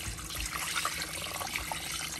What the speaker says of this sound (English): Okay, so I am just going to add some water.